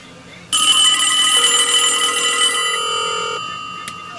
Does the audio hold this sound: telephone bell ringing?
yes